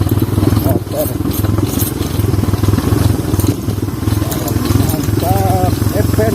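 A motorcycle engine drones and rattles steadily at close range while the bike rides down a steep, narrow cliffside trail too small for cars in Lampung, with a voice talking over the running motor.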